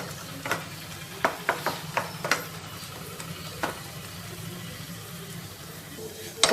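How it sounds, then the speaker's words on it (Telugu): Sago ingredients frying in ghee for payasam, stirred in a pan: a soft steady sizzle under a series of sharp scraping taps from the stirring, close and fairly quiet, with a voice speaking at times. "వీటిని కూడా ఫ్రై చేసేసుకుందాము"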